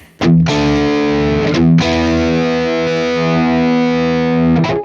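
An Ibanez RG-421 electric guitar played through a Friedman amp with heavy distortion rings out in sustained chords, struck three times with brief scrapes between, loud and close.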